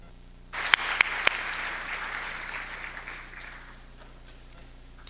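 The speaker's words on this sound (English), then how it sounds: "join together in a warm round of applause for all the people mentioned above" Warm applause at a secondary school graduation ceremony starts abruptly, with a few sharp claps up front over a broad crowd clatter that gradually thins and fades into room hum.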